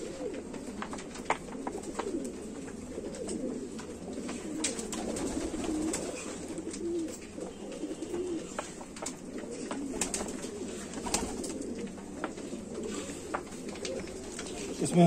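Sheikho pigeons in a loft in Jammu coo softly and keep on repeating, with scattered clicks and wing flutters, beneath someone speaking throughout.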